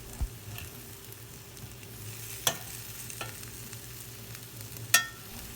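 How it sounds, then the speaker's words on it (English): Brinjal and potato vegetable is stirred with oil in a pan over a low flame. A soft, steady sizzle runs throughout, broken by a few sharp clinks of the spoon against the pan, with no talk. "Just mix the vegetable with the oil."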